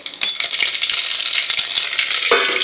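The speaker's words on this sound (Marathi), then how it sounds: "आपलं तेल तापलेलं आहे, त्यात आपल्याला ही मोहरी घालायची आहे।" Mustard seeds crackle and sizzle in hot oil, a loud, busy frying hiss with sharp pops and spatters scattered through, close by.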